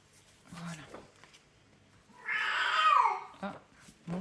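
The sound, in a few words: cat meowing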